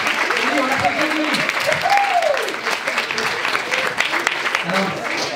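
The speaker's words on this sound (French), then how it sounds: "Oui, on l'applaudit." A young crowd at a youth conference applauds a boy volunteer called up on stage, with steady, full-room clapping throughout and a few voices calling out over it.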